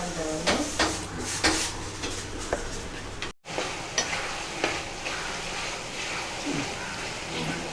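Tomatoes and onions sautéing in a pan as the base for a fish curry, a steady sizzle with repeated scraping and tapping of a stirring spoon, one brief gap partway through.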